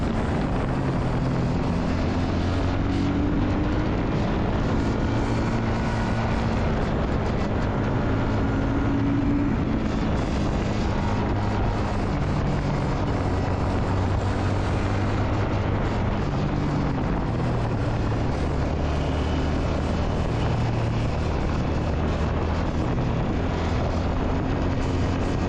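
A Shotgun 650 motorcycle with a 650 engine rides a winding road in a long second gear. Its steady, loud engine drone rises and falls in pitch over wind rush, with no talk.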